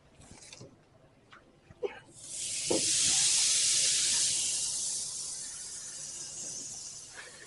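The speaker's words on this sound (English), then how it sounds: "Hear that sizzle?" A salted, buttered steak hits a hot grill with a few clacks, then a loud, steady sizzle rises and continues, slowly easing off.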